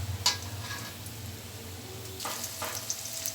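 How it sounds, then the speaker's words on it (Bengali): Lentil dumplings (bori) being fried in hot oil until reddish, giving a soft continuous sizzle with a few sharper crackles and the scrape of stirring, no voices present. "এইভাবে আমি লাল লাল করে ভেজে নিচ্ছি।"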